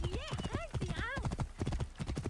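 Rhythmic hoofbeats of a galloping horse in the video game Assassin's Creed Origins, steady and close, with a horse whinnying briefly near the start and again around the middle.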